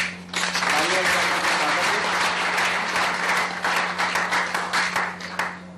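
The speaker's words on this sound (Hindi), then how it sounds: "जोरदार तालियां दें" Loud, sustained applause from an audience at a company meeting, a dense crowd of clapping that starts abruptly, holds for several seconds and thins out near the end.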